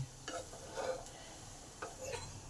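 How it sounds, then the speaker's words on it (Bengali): Stale bread pulao being mixed by hand in a pot, with soft irregular stirring scrapes and brushes and a faint sizzle underneath, close by and quiet. "হাতে সব কিছুকে ভালো করে মিশিয়ে নিতে হবে।"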